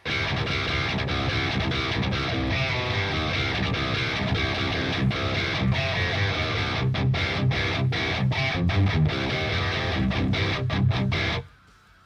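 A heavily distorted electric guitar playing a djent tone through an amp simulator plugin, with dense, chugging palm-muted riffs and tight rhythmic stops that end abruptly in silence near the close.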